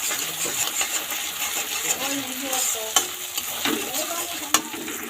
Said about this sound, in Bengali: দিয়ে ভালোভাবে একটু কষিয়ে নেব ভালোভাবে কষিয়ে নেব